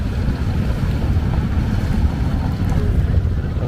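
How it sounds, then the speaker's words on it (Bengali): Stone-laden boats move along the river at Bholaganj Sada Pathor in Sylhet, producing a steady, loud rumble of engines, water and wind buffeting the microphone without a break and with no clear talk. "চারপাশে পাথর বোঝাই নৌকাদের ছুটে চলার শব্দ।"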